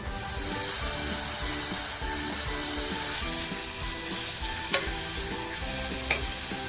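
Chopped tomato goes into hot oil seasoned with turmeric and asafoetida for a green chana masala, then gets stirred in the pan: a steady close sizzle with scraping and stirring, two sharp clinks near the end, and no talking.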